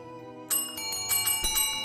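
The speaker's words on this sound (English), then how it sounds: "Let's just ring Margaret's bell a few more times" In the Phasmophobia ghost-hunting game, a ghost's bell rings out suddenly and keeps jingling in a bright, shimmering peal with rapid metallic strikes, close and fairly loud, with no talking.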